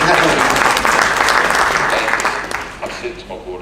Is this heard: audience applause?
yes